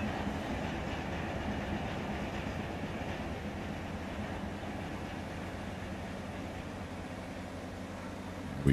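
Simulated freight train in Run 8 Train Simulator rolling steadily along the tracks, a continuous loud low rumble with faint clickety-clack, heard alone without talk.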